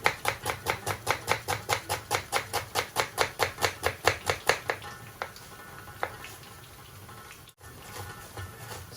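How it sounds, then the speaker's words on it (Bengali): Knife finely chopping a red onion on a cutting board: a fast, steady run of about twenty crisp, close taps, then a few scattered cuts and quiet handling. "লাল পেঁয়াজ আমি একবারে মিহি কুচি করে কাটছি একটা"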